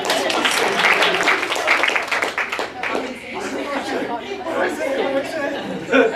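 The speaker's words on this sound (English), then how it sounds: "Let's give her a round of applause" An audience at a real estate presentation on buyer broker agreements applauds loudly, the clapping blending with lively chatter and a few chuckles that carry on as it fades.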